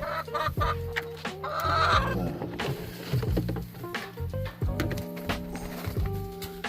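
Chickens cluck in a backyard coop, with repeated close, busy clucks and calls overlapping one another in an uneven stream.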